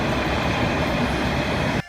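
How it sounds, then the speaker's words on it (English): A passing train rumbles loudly and steadily with broadband roar, cutting off abruptly near the end. "This is a train. Chugga chugga choo choo."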